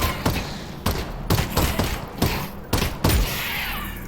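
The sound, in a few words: gunfire in Half-Life Campaign+ mod video game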